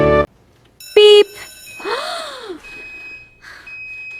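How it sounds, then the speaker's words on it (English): A single short electronic beep rings out, followed by a breathy gasp-like vocal sound and faint lingering tones. "That's the fire alarm."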